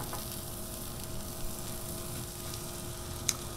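Carrots frying on an oiled Blackstone 22-inch griddle, a steady close sizzle throughout with a faint click near the end.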